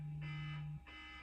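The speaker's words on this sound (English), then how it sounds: "It's my alarm." A device alarm going off, a steady electronic tone followed by bursts of bright repeated beeping, fairly quiet and heard alone without talk.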